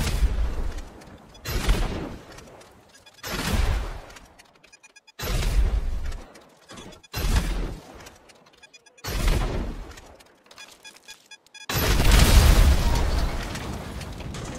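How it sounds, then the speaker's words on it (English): Homing missiles fired from a Khanjali tank in GTA Online, a series of about six loud, booming explosions in short bursts with brief gaps, the last one longest and rumbling. "Let's try now with the homing missile."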